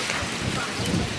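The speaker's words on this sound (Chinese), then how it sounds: "突然刮了好大的风" A strong gust of wind sweeps across an outdoor imperial mausoleum site as rain approaches, making a dense, steady roar and rumble buffeting the microphone.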